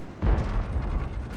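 A tank cannon fires in the World of Tanks video game on the Ruinberg map, a single heavy boom followed by a rumbling tail that fades under steady battle background noise.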